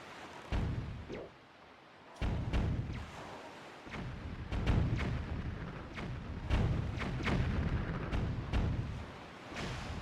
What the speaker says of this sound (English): you can shoot bombs with bombs